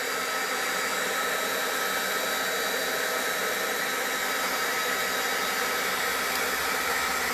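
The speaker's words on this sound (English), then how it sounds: "the watercolor paper actually dries really quickly when you hit it with the heat gun" A heat gun runs steadily, drying watercolor paper coated with embossing paste; a continuous, loud, even blowing whir with no talk throughout.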